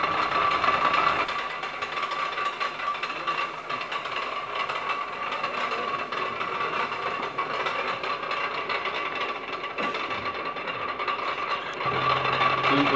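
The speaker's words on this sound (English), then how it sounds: "this electric motor and the set of gears that are back here are actually turning the lead screw inside" Antique Underwood boring machine, a steam-era tool machining a part for an antique engine, with an electric motor driving gears and a lead screw in a steady mechanical whir and rumble, continuous and fairly close.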